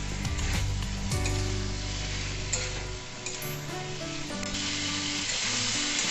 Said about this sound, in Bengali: পেঁপে আলু দিয়ে আমি ভালোভাবে একটু কষিয়ে নেব।